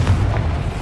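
Confringo explosive spell blast in Hogwarts Legacy, a single deep booming burst with a rumbling body, loud and close with no talk.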